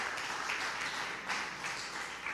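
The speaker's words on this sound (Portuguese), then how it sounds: "Aplauda o Senhor." A church congregation claps during a sermon, a sustained, moderately loud patter of many hands with gentle swells in intensity and no voices over it.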